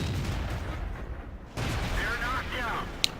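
Tank cannons fire during a World of Tanks battle on the Port map, with a heavy blast and sharp crack over rumbling battle noise while a commentator talks.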